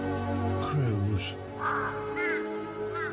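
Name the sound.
crows cawing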